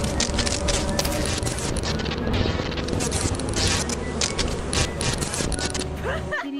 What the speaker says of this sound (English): there are bees currently swarming around the ship